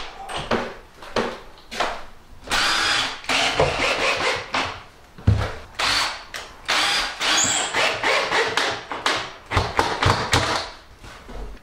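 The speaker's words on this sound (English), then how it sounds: "So a few extra screws in." A cordless drill drives screws into plasterboard on an old ceiling, with repeated short bursts of whirring and thudding at irregular intervals, fairly close and loud.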